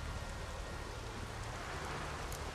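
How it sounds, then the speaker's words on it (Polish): Steady rainfall in the video game The Witcher 3, a dense, even hiss of falling drops that holds at the same level throughout with no voices. "Deszczu tyle tu."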